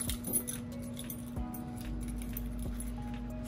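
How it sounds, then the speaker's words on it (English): Metal car keys jingle and clink in a few short bursts, close by, over a steady low background hum. "in it keys to the car"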